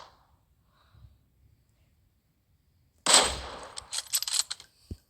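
Sniper rifle fire in PUBG Mobile: one sharp loud crack, then a scatter of smaller distant shots and impacts over a few seconds, after near silence.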